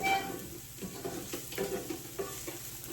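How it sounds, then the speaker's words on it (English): Kale sautéing with garlic in a pan for a kale and artichoke pasta bake, a soft steady sizzle with gentle stirring scrapes, quiet and close. "I'm gonna finish sauteing this, maybe 1 to 2 more minutes"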